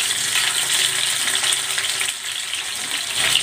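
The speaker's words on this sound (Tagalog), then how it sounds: "Ipiprito ko muna itong isda" Fish seasoned with salt and pepper fries in hot oil, giving a loud, dense, continuous sizzle that dips briefly and then comes back.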